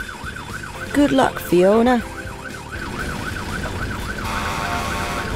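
A cartoon fire truck siren wails in a repeating rise-and-fall pattern, loud and steady, throughout a children's animated show about a garage. Character voices speak briefly over it near the start.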